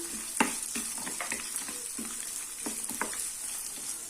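Fresh green peas and cut beans sautéing in a hot pan for a lemon rice dish, a steady close sizzle broken by several scraping stirs of a spoon against the metal, with no talking.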